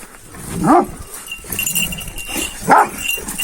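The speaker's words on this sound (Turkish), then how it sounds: "Ha şuradan havlayın hadi" Kangal dogs bark close by, a sharp bark early and another near the end, over a busy indoor background.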